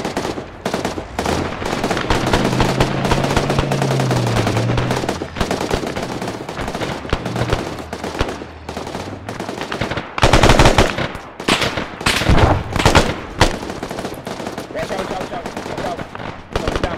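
Sustained machine gun fire in the ArmA 3 military shooter, loud bursts rattling almost continuously with heavier volleys near the middle and end, with a voice speaking briefly beneath the gunfire.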